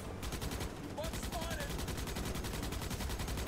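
Rapid automatic gunfire in the video game Starship Troopers: Extermination rattles in sustained, evenly spaced bursts, loud and continuous throughout.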